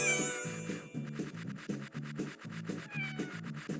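A cartoon cat in a children's show meows repeatedly in a lively, melodic run of mews, close and clear over light background music.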